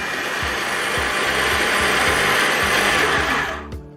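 A Pelamatic electric peeler whirs loudly and steadily as it turns a potato into spaghetti strands, with a regular low thumping in the motor. It winds down and stops near the end.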